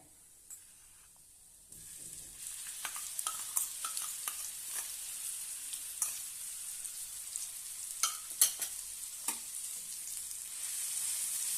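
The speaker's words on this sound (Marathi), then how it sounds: "छानपैकी तेलावर आपण भाजून घेऊया" Red chilli garlic thecha, ground in a mixer, frying on a hot tava in oil with cumin: it breaks into a steady bright sizzle, with repeated close stirring scrapes and pops throughout.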